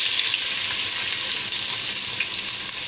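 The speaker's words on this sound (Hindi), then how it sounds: "चंद सेकंड फ्राई करने के बाद इसमें चली जाएगी प्याज" Cumin seeds fry in hot oil in a pan, making a constant bright, close sizzle with little variation throughout.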